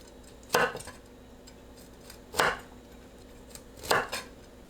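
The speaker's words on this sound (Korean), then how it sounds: "깨끗하게 씻은 컬리플라워를 한입 크기로 썰어주세요" A knife cuts washed cauliflower into bite-size pieces on a board, making three distinct crunchy chops spread about two seconds apart, each standing out clearly against a quiet background.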